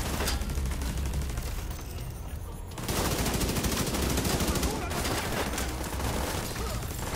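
A deployed turret in the video game The Division 2 fires in sustained rapid bursts of close, loud gunfire, with a brief lull partway through before the firing resumes.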